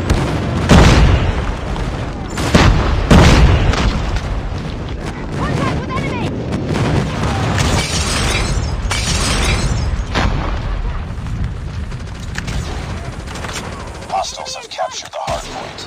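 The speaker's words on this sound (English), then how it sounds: "Friendly airstrike incoming." Airstrike explosions boom repeatedly in Call of Duty: Mobile, several heavy blasts landing close in the first few seconds, then a sustained rumble of gunfire and impacts, with game voice callouts mixed in.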